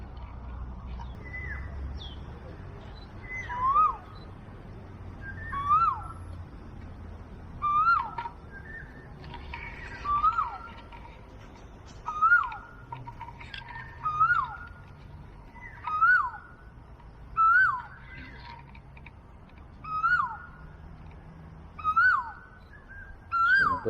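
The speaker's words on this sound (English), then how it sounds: "Birds are singing," Outdoors, a single bird repeats a short, rising whistled call about every two seconds, clear and moderately near over a quiet background.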